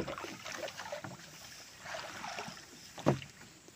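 Small fishing boat loaded with a box net and tub, rocking on the water, giving faint sloshing and creaking with wind buffeting the microphone and one sharper knock near the end.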